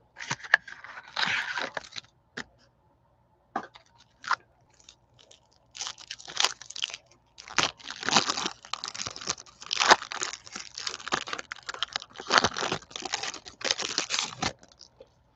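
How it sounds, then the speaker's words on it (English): Crinkling foil wrappers on packs of 1996 baseball cards, torn and crumpled in irregular bursts of sharp crackle with short pauses between, close up and without talk. "Didn't know I was going to be doing this much unwrapping"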